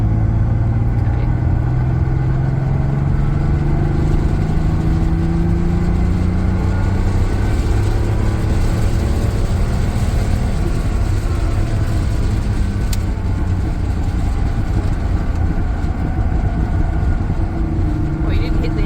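A 1976 Porsche 930 Turbo engine drones loud and steady, its pitch sweeping upward as the throttle is held, a continuous close rumble from start to finish with voices talking beneath it.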